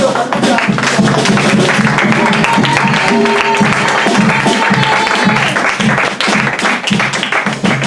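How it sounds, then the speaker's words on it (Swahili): A church congregation claps to welcome the preacher at a Saturday service, dense and loud applause mixed with crowd voices and ululation, continuing throughout. "baadaye tutachapa makofi na vigelegele kwa sababu ya kukaribisha"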